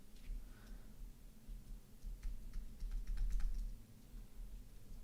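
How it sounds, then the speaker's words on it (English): Rapid typing and key-mashing on a computer keyboard during a live coding session, with steady clicks in irregular bursts, fairly close and quiet over a low background hum. "That doesn't seem to do anything if I press the keyboard like that."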